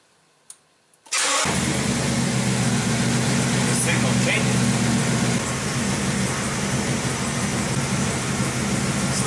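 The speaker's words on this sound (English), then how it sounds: "So if I start the engine" After a second of near silence, a car engine cranks and catches with a sharp burst, then settles into a loud, steady idle that continues to the end.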